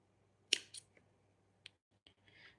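Scissors cut crochet yarn on a small keychain project: a sharp snip, a softer second snip just after, then a few faint clicks and a brief rustle, quiet and close in a still room.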